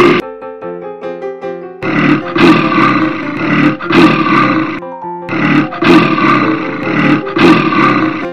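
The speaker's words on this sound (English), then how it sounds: "Gorilla." A toy train plays a recorded gorilla sound: after a short musical jingle, a series of loud, harsh roaring grunts comes in repeated bursts with brief gaps between them.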